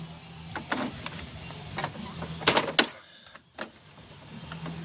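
Plastic radio trim on a Subaru Forester being pried and clipped out: several sharp clicks and snaps with soft scraping and handling in between, close and fairly quiet, no talk.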